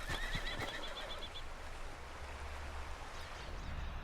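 A horse in the video game Red Dead Redemption 2 gives a clear whinny near the start, its rising and falling cry fading after about a second and a half into steady outdoor ambience.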